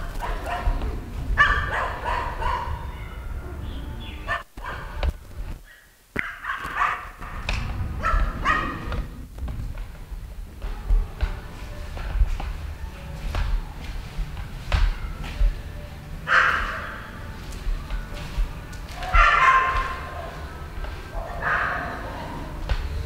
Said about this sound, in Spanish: Tiene perros guardianes.